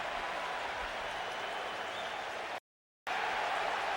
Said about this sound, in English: And the Raider receivers clapping their hands.